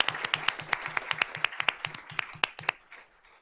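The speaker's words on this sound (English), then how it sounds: "let's give them a round of applause" Audience applause at a school board of trustees meeting honoring all-state chorus members: roughly a dozen sharp, evenly spaced claps from a small crowd, close and moderately loud, thinning out and fading toward the end.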